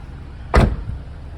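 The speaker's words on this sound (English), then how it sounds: "you press the lock button to lock all the doors" A 2025 Mazda3 Turbo Premium Plus hatchback locking all its doors at the press of a lock button, heard as one short, loud, close mechanical clunk with a brief rattle trailing off.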